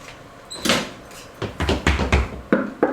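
Door sound effects in a radio drama: a sequence of knocks, creaks and bumps, the first burst near 0.6 s and then a cluster of sharp hits between 1.4 and 2.9 s, close and fairly loud, with no talking.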